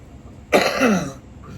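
One close, rough throat-clearing cough, a single harsh burst that rasps for about half a second before fading.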